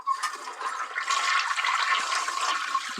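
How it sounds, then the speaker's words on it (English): A toilet flushes loudly in a steady rushing wash of water that runs for the full three seconds without letting up. "I flushed him down the toilet"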